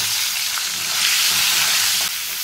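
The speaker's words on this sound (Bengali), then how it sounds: "এখন ফুলকপিগুলো ভেজে নেব।" Cauliflower pieces fry in hot oil with a continuous close sizzle and faint stirring, loud and even throughout with no voices.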